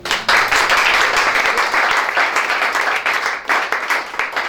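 A church congregation applauding, a loud dense burst of clapping that begins abruptly and carries on steadily, with a few voices mixed in.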